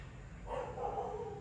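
Dogs barking indoors at a distance, a short cluster of muffled barks and yips over a low background hum, with no talking.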